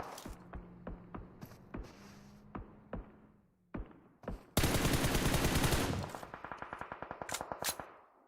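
Gunfire in a competitive shooter video game match: a sequence of sharp single shots gives way to a dense burst of rapid automatic fire, then a fast rattling string of rounds, loud and close.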